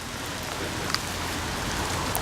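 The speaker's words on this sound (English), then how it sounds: "it's still raining, but we've got a bit of shelter" Rain falls steadily in woodland beside Derwent Water near Keswick, a soft, even hiss with a few sharper drop taps, and no voices.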